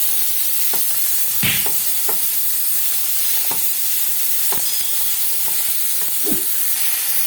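Beef pieces frying in a hot pan while being stirred and flipped, with a steady sizzle and scattered scraping clicks of the utensil against the pan at irregular intervals.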